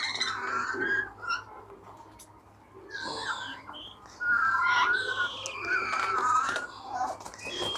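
Young parrots, African grey and Senegal chicks, call at an exotic bird farm with chirps, squawks and whistles of varying loudness that come and go throughout, loudest in the second half.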